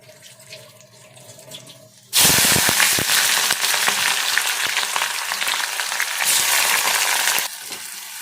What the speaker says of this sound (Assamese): তেল গৰম হৈ গ'ল এতিয়া মই তেজপাত আৰু গোটা জিৰা দি দিছোঁ